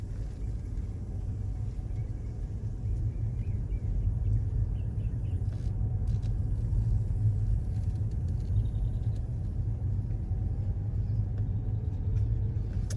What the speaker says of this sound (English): Just driving around a bit here in this cemetery.